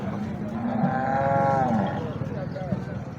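At a Kharian livestock market in Punjab, a buffalo lets out a drawn-out, moderately close moo over a busy background of market chatter and noise.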